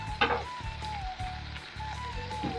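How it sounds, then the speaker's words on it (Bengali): Food sizzles and crackles steadily in a hot pan, a soft continuous hiss with a low hum underneath and one brief clatter. "এটা এখন ভাজা হবে"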